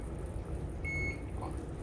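A single short electronic beep from an oven's control panel button, clear and fairly close over a low kitchen hum, with no talking.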